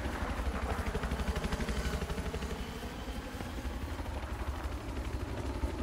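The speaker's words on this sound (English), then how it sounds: "We gotta take out that helicopter." A helicopter in the video game Battlefield 4 thrums in a steady, pulsing rotor beat at moderate distance, the rhythmic chop running continuously through the stretch with no voices.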